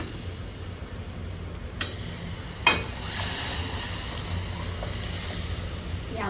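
A tadka for dal sizzles in hot oil over a high flame, a continuous close hiss with a few sharp crackles and pops.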